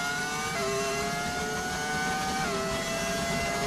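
A modded engine sound from the F1 25 racing video game, a loud, steady high-revving race car whine that climbs through gear shifts, upshifting sharply twice, with no talk over it.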